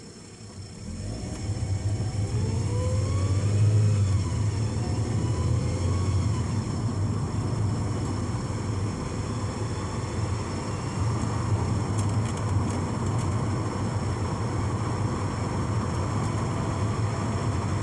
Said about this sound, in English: I've got a bit of whirring from my timing belt tensioner